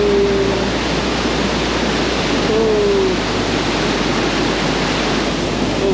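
A rushing mountain river along the trek to Rudranath Temple in Uttarakhand roars as a loud, steady broadband wash of water that fills the whole clip, too hard to cross, with no clear talk over it.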